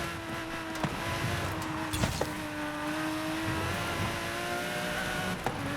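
A car engine in the racing video game Forza Horizon, a steady droning motor tone that holds and shifts pitch gently, with a few sharp clicks and brief transients, at moderate level and no talk.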